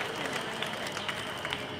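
Applause from the crowd at a Scottish independence march and rally in Glasgow, a steady dense wash of clapping held at an even level throughout, heard from within the gathering.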